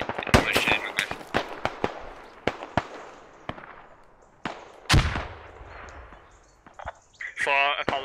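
Gunfire in the video game Squad Ops, with sharp single shots and quick bursts cracking loudly and echoing, a heavier blast near the middle, and radio-style voices talking toward the end.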